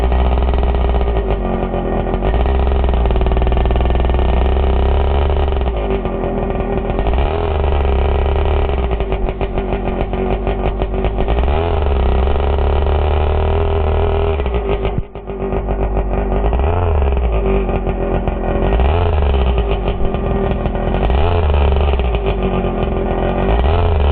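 Exceed Madstorm RC car fitted with an HPI Savage nitro engine running loud and close, a buzzy high-pitched drone with repeated rises and dips in revs over a sustained run.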